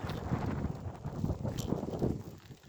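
Strong cold wind buffeting the microphone outdoors, a steady low rumble and roar with gusty swells that ease slightly near the end, heard alone without talk.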